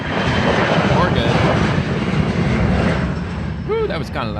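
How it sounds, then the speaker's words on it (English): A loud airplane passes overhead with a broad, rushing roar that fills the whole stretch, then eases slightly near the end. "That's how planes are, man. They're loud."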